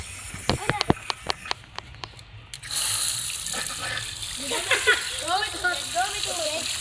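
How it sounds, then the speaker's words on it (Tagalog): A tap at Amparo Elementary School is turned on after a few sharp clicks, and water then gushes steadily from it while children's voices chatter nearby. "Pero may tubig dyan na lumalabas."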